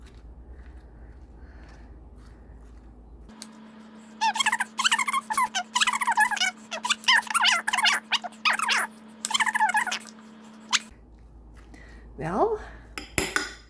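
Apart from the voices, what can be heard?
mixing ingredients in a bowl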